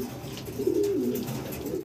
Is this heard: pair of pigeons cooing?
yes